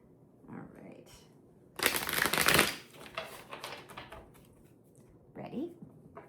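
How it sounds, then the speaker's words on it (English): A deck of tarot cards riffled in a casino-style shuffle, giving a loud burst of fluttering card noise around the middle, with quieter handling sounds and brief speech before and after. "One more casino shuffle."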